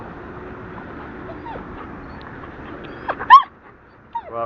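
A dog gives a few short, high whimpers and yips during a training session, soft and sparse over faint background noise, clustered near the end.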